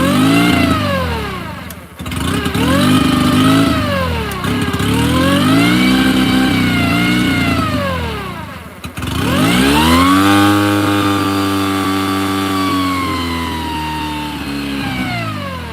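A 9.9hp Mercury outboard motor on a Grizzly Tracker boat runs loud and close for the whole stretch, its engine pitch rising and falling through repeated revs, with two brief dips where the throttle drops before it surges again.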